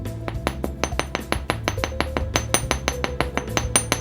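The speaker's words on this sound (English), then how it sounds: "I'm going to lightly hammer my stars" Light, rapid metallic tapping of a small hammer on wire stars for huggie earrings on a hard block, about twenty close, evenly paced strikes with a faint ringing tone, no talk.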